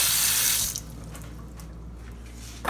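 Tap water runs hard into a sink while key limes are rinsed, a loud steady gush that cuts off abruptly and returns briefly at the end, with no talking.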